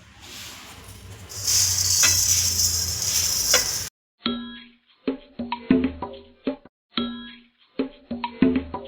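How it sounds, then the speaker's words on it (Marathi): Vermicelli roasts dry in a kadai. A hissy rustle comes first, then it gives way to sharp metallic clinks and scrapes of stirring against the pan in an irregular rhythm. "अशा रीतीनं आपण व्यवस्थित शेवया भाजून घेत आहोत"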